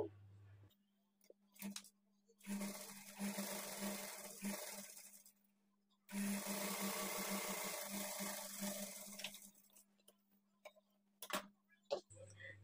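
A sewing machine stitches a blouse in two long runs of whirring, rapid needle chatter over a steady motor hum, separated by pauses with a few short bursts and clicks near the end.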